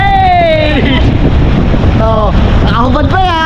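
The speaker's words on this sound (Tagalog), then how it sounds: "Sobrang lakas ng hangin." Strong, steady wind roars loudly and continuously through the whole stretch, buffeting the microphone, while a voice talks and calls out over it during a flood.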